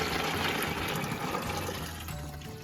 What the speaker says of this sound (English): We're gonna dump this in, and we're gonna strain the water out.